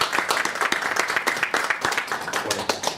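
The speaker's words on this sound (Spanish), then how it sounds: "Un aplauso, por favor." An audience applauds at a conference talk on multichannel relationship models in IT, with dense, brisk clapping that holds steady throughout.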